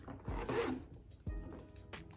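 The zip on a short phone pocket of a Rebecca Minkoff bag being pulled, two quick rasping zip strokes close up with a light rub between them.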